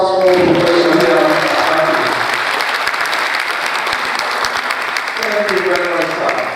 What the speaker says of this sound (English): Another round of applause for Professor here.